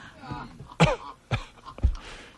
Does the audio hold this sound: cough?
yes